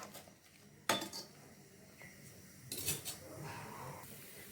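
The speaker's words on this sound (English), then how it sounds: "I'm going to be adding pepper, crushed pepper. And give this a stir as usual." Metal spoon scraping and clinking in a pot of seafood soup seasoned with crushed pepper, a few sharp clinks followed by softer scraping stirs, quiet and close, no talking.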